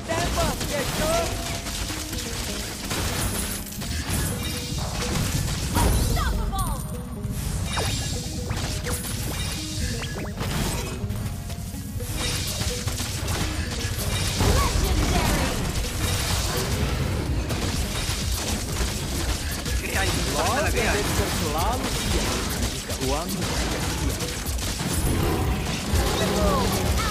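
Rapid gunfire from Dexter in the Mobile Legends game, dense bursts of shots and impacts with crashing effects, loud and continuous over a busy game soundscape.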